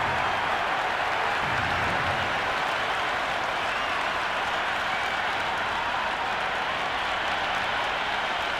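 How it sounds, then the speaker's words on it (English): Roaring stadium crowd in the Cricket 26 video game on PS5, a steady broad wash of cheering and clapping for an IPL match between Royal Challengers Bengaluru and Chennai Super Kings, sustained without letup. "The crowd are making a heck of a lot of noise even before the first ball's been bowled."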